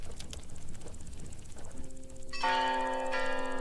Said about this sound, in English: the church bell ringer rang his bell too loudly